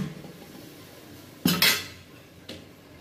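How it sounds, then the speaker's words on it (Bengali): A metal lid is set on a cooking pot of small fish in a home kitchen, two close clanks in quick succession and then a lighter knock, over a quiet room background. "এবার এটাকে একটু তাড়াতাড়ি করার জন্য আমি এটাকে একটু ঢেকে দিচ্ছি।"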